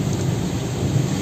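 Steady rain pours down during a drive on the BR-381 highway in Minas Gerais, a dense, even hiss with low rumble from the road, continuous and fairly loud throughout.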